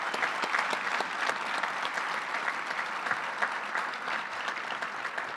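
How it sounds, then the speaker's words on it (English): Sustained audience applause at a business session of the 48th annual EANGUS conference, dense and steady clapping from a crowd lasting throughout with no pauses. "So give them a round of applause."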